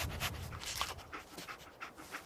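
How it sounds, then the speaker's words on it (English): Dogmeat, the dog companion in Fallout 4 played on PS5, panting in quick, steady breaths close by, with no talking. "dog meat. Get the scent,"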